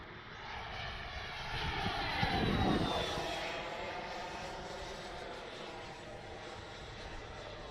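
A Freewing Avanti S 80mm V2 RC sport jet flies overhead on a 6S battery, its electric ducted fan giving a whooshing, whining roar. The sound swells as the jet passes near, then stays as a fainter, steady drone.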